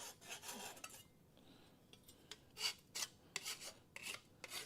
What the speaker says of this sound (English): we'll just get rid of the burrs